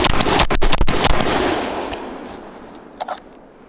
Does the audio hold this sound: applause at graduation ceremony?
no